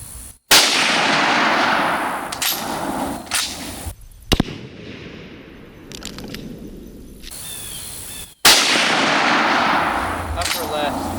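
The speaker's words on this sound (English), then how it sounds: "we're gonna actually shoot a pumpkin out here at, I'd say, about 80 yards or so" Outdoor shots from a World War I Steyr M95 straight-pull bolt-action rifle fired at a pumpkin about 80 yards downrange: loud sharp cracks with rumbling echoes, spaced several seconds apart, with a quieter stretch of open-air ambience between them.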